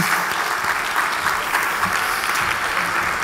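A crowd at a conference panel applauds loudly and steadily, dense clapping sustained throughout with no pauses.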